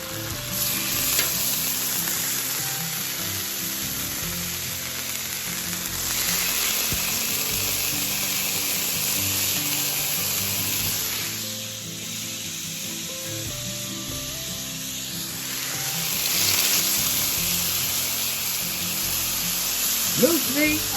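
Strips of wild moose meat fry on a hot Blackstone griddle, giving a continuous close sizzle that dips briefly midway and then swells louder again, steady and crackling throughout.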